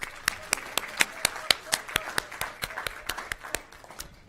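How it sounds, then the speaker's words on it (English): Sparse applause for an honoree at a recognition meeting: about a dozen distinct, evenly spaced claps at a steady rhythm, moderately close and fairly quiet in a room. "Let's give a round of applause for him."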